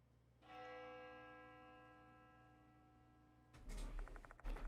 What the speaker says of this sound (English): The sound of a bell echoes in my ear.